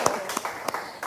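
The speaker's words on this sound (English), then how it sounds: "Let's keep clapping for Sister Sen" Short patch of audience clapping at a live event, a handful of quick, uneven hand claps close by with a voice mixed in.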